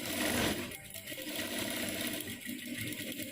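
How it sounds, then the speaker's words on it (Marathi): Sewing machine stitching a blouse katori (cup) along marked lines, a steady continuous mechanical whir close by with no talking. "जसं मी मार्किंग केले तशी शिलाई देते"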